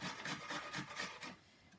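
An apple is rubbed against a grater in a short run of close, quiet, rhythmic rasping strokes, with no talking.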